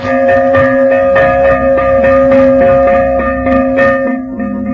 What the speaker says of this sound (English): when the fire bell sounded